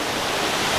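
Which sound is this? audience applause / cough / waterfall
waterfall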